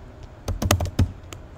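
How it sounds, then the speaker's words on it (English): A password typed on a computer keyboard: a quick cluster of about eight close key clicks in an irregular burst, then one last tap after a short pause. "then you need to enter your password"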